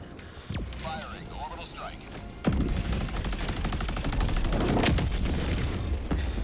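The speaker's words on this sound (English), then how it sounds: "It's another 17 seconds for my Gatling gun." Rapid gunfire and explosions from a Gatling gun in the video game Helldivers 2 rattle on as a sustained fusillade, loud and dense, with a sharp boom partway through and a voice talking over parts of the battle.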